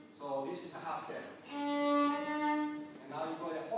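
Two sustained tones a half step apart ring out between stretches of speech, each note held clearly and moderately loud.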